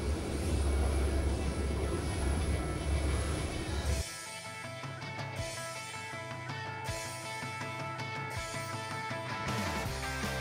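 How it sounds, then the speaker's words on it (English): Boeing 727 private jet engine roar, loud and broadband, steady at first, then dropping to a lower, tonal whine with spooling harmonics as the aircraft sits nearby. "That's a 727, a very cool private jet."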